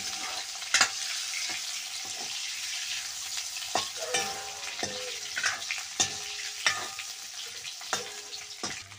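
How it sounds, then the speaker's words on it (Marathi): Dried bombil fish sticks frying and being turned in oil for a spicy curry, a steady sizzle punctuated by repeated sharp spatula scrapes and knocks at irregular intervals throughout. "तेल टाकून घेतल्यानंतर काड्या तेलामध्ये चांगले परतून द्यायचे आहे"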